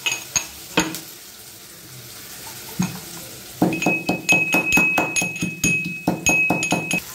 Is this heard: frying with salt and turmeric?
yes